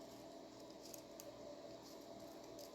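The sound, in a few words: scissors cutting out paper craft pieces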